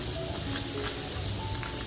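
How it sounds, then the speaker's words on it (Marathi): Butter sizzling in a pan on a gas stove, a steady soft crackle and hiss running evenly throughout, fairly quiet with no speech. "तर बघा बटर टाकते. गॅसवर पॅन ठेवलाय."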